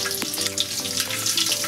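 Coriander and garlic frying in oil for chicken fry, a close continuous crackling sizzle with small pops throughout the short stretch.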